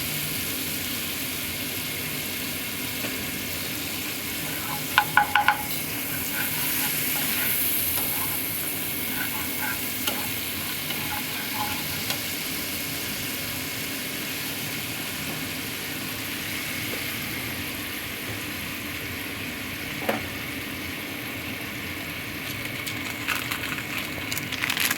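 Pumpkin and soybean curry with a little sugar and water being sautéed in a pan, giving a steady low sizzle and hiss with a few brief clinks of a utensil against the pan.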